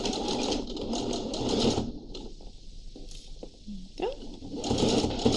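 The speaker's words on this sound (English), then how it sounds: "Bang it on the sewing machine and literally stitch across" A sewing machine stitches across the edge of a fleece hat in two close, loud bursts of rapid mechanical whirring, with a quieter pause between them where brief handling noises and a short spoken word come through.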